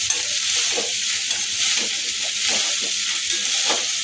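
Paneer fried rice stirred in a hot pan with a flat spatula, a constant bright sizzle with soft scraping strokes repeating roughly every half second, close and alone.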